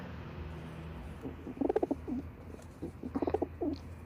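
A Teddy pigeon coos nearby in two short runs of soft, throaty warbling notes over a low steady background hum.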